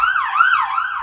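A loud siren wails continuously, its pitch sweeping up and down in a smooth rising-and-falling cycle, close and steady throughout.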